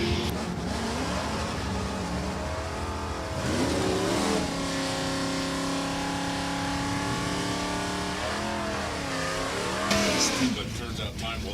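A 97 Camaro Supersport, a C-Stock Automatic drag racer, accelerates hard down the strip at New England Dragway, its engine climbing steadily in pitch and staying loud throughout, with an announcer talking over it.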